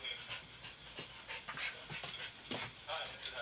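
A dog pants quickly and excitedly, close by, with breathy rhythmic huffs. Soft background noise sits underneath.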